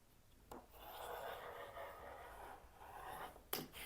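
A rotary cutter trims the edge of quilt fabric with a faint, close, scraping rub that lasts a few seconds, framed by soft taps at the start and end.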